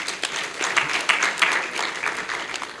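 Audience at a charity foundation launch gives a round of applause, a steady wash of clapping lasting a few seconds at moderate loudness with no talk over it.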